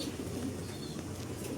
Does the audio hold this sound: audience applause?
no